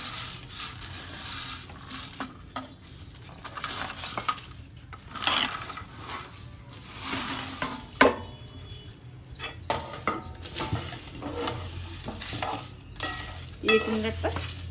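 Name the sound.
whole spices being stirred and roasted for garam masala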